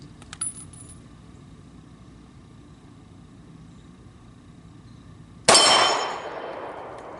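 A Kahr .45 pistol magazine pops out of the grip with one sharp metallic clack, close and loud, with a brief ringing decay after a long quiet stretch outdoors.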